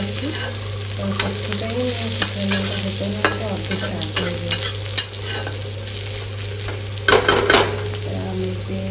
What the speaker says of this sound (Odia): ଏବେ ପିଆଜ ଜଷ୍ଟ ହାଲକା ଭାଜିବା